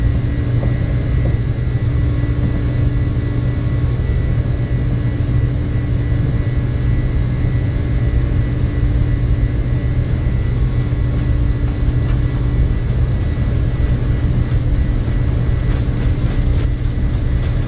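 Airliner jet engines spooling to takeoff thrust in Microsoft Flight Simulator on a cargo departure from Surabaya, a loud steady roar with a constant low drone that holds throughout, no talking.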